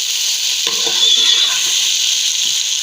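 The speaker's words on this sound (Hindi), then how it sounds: "ऑयल गर्म हो चुका है, प्याज शामिल करेंगे।" Finely chopped onions meet hot oil in a pan, producing a steady bright sizzle with a brief burst of crackling as they go in, close and with no talking.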